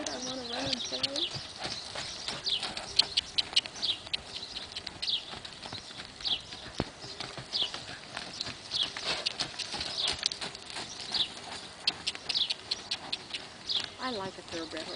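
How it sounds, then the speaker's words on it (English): Thoroughbred horse hooves clip-clop in a brisk, irregular patter, moderately close, with a voice talking over much of it. "I like a thoroughbred horse."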